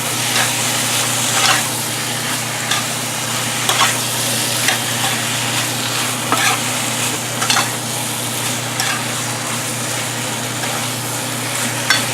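Potato sabji for kachori sizzles and fries in a pan in a constant loud hiss, with occasional soft stirring scrapes and no voices.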